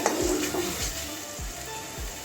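Spice paste frying in released oil for a soybean curry with carrot, potato and pointed gourd, a steady close sizzle broken by a few soft low thuds of stirring, without talk.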